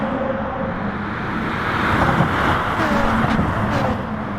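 A dense pack of NASCAR stock cars roars past in Gran Turismo Sport, a steady, loud wall of engine and road noise that swells slightly midway and holds without a break.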